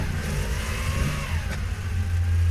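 A Porsche 911 with a 2-litre flat-six engine runs close by, a steady mid-pitched engine note that rises slightly as it revs, with no talking.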